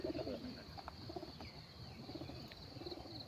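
Pigeons cooing softly in a low, repeated murmur, with several short coos spread across the stretch over a steady background hiss, no voices.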